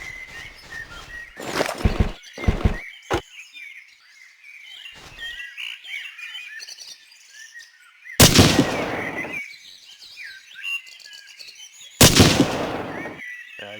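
Grenade explosions in the World War II shooter Hidden & Dangerous, several loud bursts with long rumbling tails, the biggest two near the middle and end, separated by quieter outdoor ambience with chirping birds.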